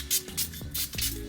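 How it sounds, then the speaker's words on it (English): A Tower 28 facial mist spray gives three quick, soft pumped hisses in an even rhythm, close and fairly quiet. "I love this Tower 28 spray."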